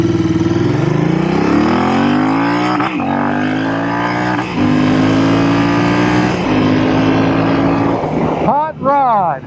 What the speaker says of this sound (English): Everything was put into the engine, it sounds like.